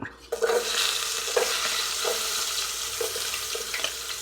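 Chopped garlic sizzling in a hot pan for chicken kabsa, a steady close frying crackle with occasional stirring scrapes.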